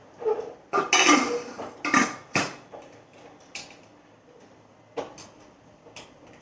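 Metal clinks and clatters as a rubber ring is fitted onto a pressure cooker lid, several sharp knocks close by, then a few lighter taps with quiet gaps.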